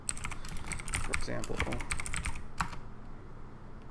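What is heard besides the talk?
typing commands on a computer keyboard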